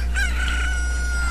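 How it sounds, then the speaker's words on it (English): Chickens clucking and a rooster crowing in Kakariko Village in Zelda: Ocarina of Time, a short, steady burst of fowl calls over a low constant background hum. "Now let's get some chickens."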